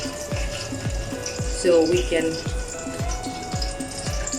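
Beef nehari bubbling in a pot over a very low flame, with soft repeated pops and gurgles at a slow irregular rhythm, close up, while a voice speaks briefly over it.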